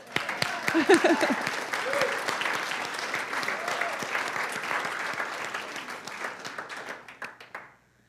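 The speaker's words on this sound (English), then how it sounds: "I know at Unity we clap for truth, don't we?" Congregation at a church service applauding together, a steady, full wash of many hands clapping that swells early, holds evenly for several seconds, then tapers off to silence near the end.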